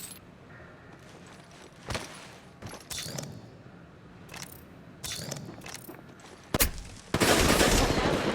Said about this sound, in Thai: ฉันกำลังยิงต่อสู้